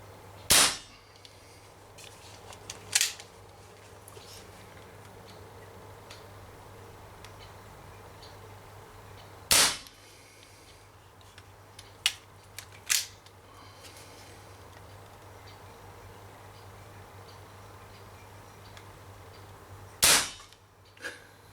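Five sharp, snappy shots from an Umarex Marlin revolver airgun, spaced irregularly and fired near a cardboard target. Quieter clicks of handling and cocking fall between them.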